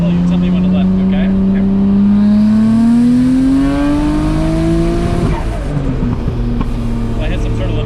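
A Nissan R34 GTR fitted with titanium intakes pulls hard at wide-open throttle in second gear, its engine note climbing steadily to redline, then dropping on the shift, loud and close with voices in the car.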